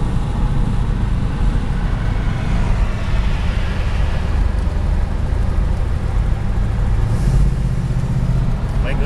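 A 1963 Buick Wildcat's 325-horsepower engine drones steadily and loudly throughout a drive, a low rumble with road noise under it, rising slightly near the end as people talk inside the car.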